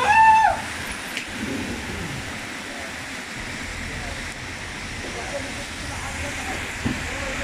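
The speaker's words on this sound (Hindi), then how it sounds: "देखते देखते देखते कितना बारिश हो गया इधर।" Heavy rain pours steadily outdoors in a street, a dense continuous hiss that stays even throughout, with a louder burst at the very start.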